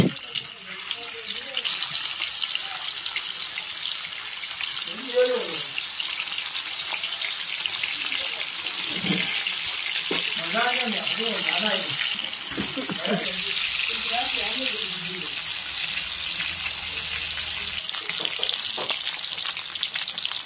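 Karish fish fries in hot oil in a wok, giving off a loud, steady hiss and crackle that runs unbroken from start to finish while a voice talks faintly underneath now and then.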